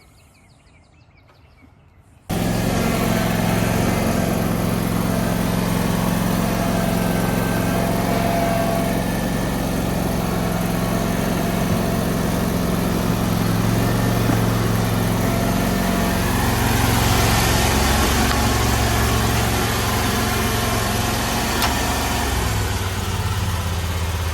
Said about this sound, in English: I would almost rather just leave the mower running.